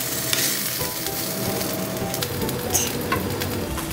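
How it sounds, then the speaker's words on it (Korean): Garlic fries in the leftover fat from pork belly, giving a dense, steady close sizzle with crackling pops and a few stirring scrapes, with no voices. "남은 삼겹살 기름으로 마늘을 부어줍니다"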